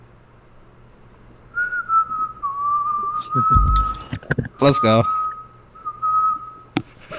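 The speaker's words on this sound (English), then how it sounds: "why were you whistling?" A person whistles one long, wavering sustained note that holds steady for several seconds, close and clear, while a few brief spoken words cut in over it near the middle.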